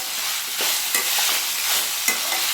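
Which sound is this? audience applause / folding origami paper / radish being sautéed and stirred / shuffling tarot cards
radish being sautéed and stirred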